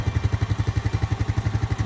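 A 2022 Honda Rubicon 520 ATV engine runs steadily up close, with a fast, even low-pitched thumping pulse and mechanical clatter and no voices.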